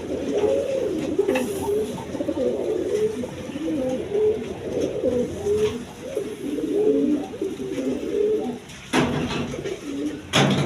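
Colored Rajgolla pigeons, including a pair of Gorra birds, coo continuously in a cage, with rhythmic low throaty calls overlapping close by and a brief rustle near the end.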